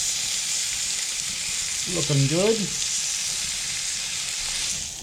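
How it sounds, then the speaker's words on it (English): Steak, mushrooms and broccolini sizzle steadily in a pan on a camp barbecue at a Werrikimbe National Park campsite, a continuous close hiss with a man's short remark briefly spoken over it. "we got dinner sizzling away here"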